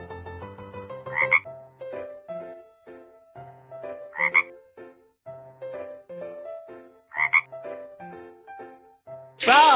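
Cartoon frog croaking in a children's video game, three short bright croak bursts spaced evenly over a light looping musical background.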